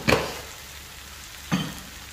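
Ripe black-skinned plantain and brown sugar are stirred in a hot pan, with two brief scraping strokes rising over a steady low sizzle.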